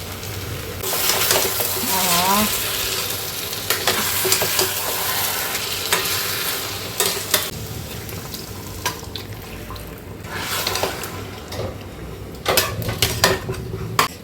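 Chicken fries in a pan while being stirred, a sizzle running under repeated scrapes and clinks of a utensil against the metal, with occasional sharper knocks.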